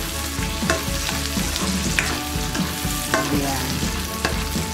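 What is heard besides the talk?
onions frying and browning in a pan for chop suey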